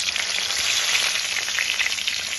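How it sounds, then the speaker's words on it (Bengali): Cumin seeds, two dried red chillies and bay leaves dropped into hot oil left from frying potatoes, a loud, dense crackling sizzle that holds steady and close for a couple of seconds. "এবার ওই আলু ভাজার তেলের ভিতরে আমি দিয়ে দিচ্ছি কিছুটা জিরে ফোড়ন আর দেব দুটো শুকনো লঙ্কা আর তেজপাতা"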